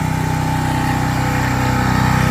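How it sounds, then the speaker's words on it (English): A dual-fuel propane and gasoline generator runs at a steady idle, close and loud, with an even rapid pulsing chug and a constant hum throughout. "It's pretty nice, the generator."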